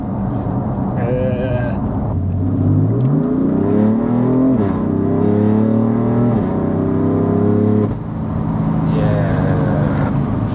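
BMW M3 F80 sports car carrying aftermarket modifications, accelerating hard through gear changes: a loud, close engine note rising in pitch, dropping at each shift and climbing again, with people talking inside the cabin.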